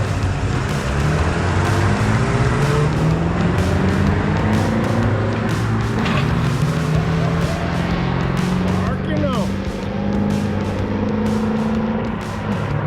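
Several cars race in a competition, a loud continuous engine drone with rising and falling pitch as they rev and accelerate, while people talk over the noise.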